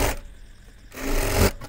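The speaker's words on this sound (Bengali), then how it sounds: "তো আমি আরেক সাইডটা সেলাই দিয়ে নিচ্ছি" A sewing machine stitches the side seam of a child's panjabi in a brief close whir, with a short pause before it starts up again.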